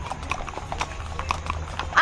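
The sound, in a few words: horse hooves clip-clopping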